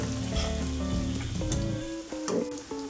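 Onion, garlic and ginger fry in a pan in a home kitchen, a close, loud, steady sizzle with crackling bursts and some low hum throughout, no speech.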